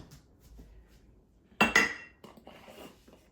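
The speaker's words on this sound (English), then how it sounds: "I did get that corn too, the rest of that corn, so I'm going to throw that in there" Corn kernels tipped from a bowl into a cooking pot land in a brief clattering burst with a rattle of cookware, then settle into a few faint trailing rustles.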